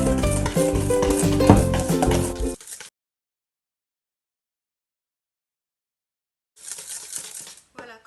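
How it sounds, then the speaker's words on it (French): Egg yolk mixture whisked by hand with a manual whisk in a bowl: a busy, close scraping and clattering for about two and a half seconds, then silence, then a lighter burst of whisking near the end. "Ensuite je vais fouetter un petit peu ma préparation. Donc là je vais utiliser le fouet manuel."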